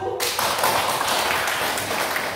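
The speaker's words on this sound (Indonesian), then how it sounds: "Bisa berikan aplaus untuk kelompok 1" Classroom audience clapping for a student presentation group, a dense, steady burst of many hands close by that starts abruptly and holds throughout, with a faint voice underneath.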